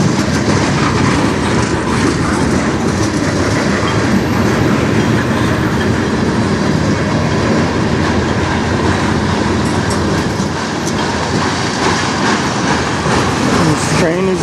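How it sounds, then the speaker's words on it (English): A long CN freight train rumbles past close by, a continuous loud roar of wheels and rattling cars with faint clickety-clack throughout. "This train is generally one of the longer trains going by"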